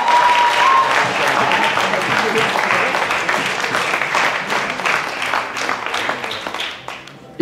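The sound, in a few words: audience applause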